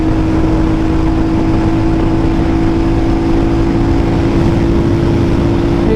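A 2024 Hunter 350 motorcycle pulls hard in fourth gear at speed, a loud, unbroken engine drone with a steady tone, heavily mixed with rushing wind noise.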